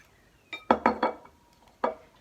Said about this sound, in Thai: ตอนนี้เราจะมาใส่น้ำปลากันหนึ่งช้อนนะคะ